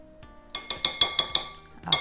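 Pancake batter being mixed with honey in a bowl, a utensil clinking against the bowl about eight times in a quick, uneven rhythm, close and moderately loud with no talking.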